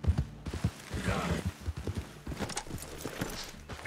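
Horse hooves clip-clop in the open-world western game Red Dead Redemption 2, a close, loud irregular run of thuds throughout, with no voices.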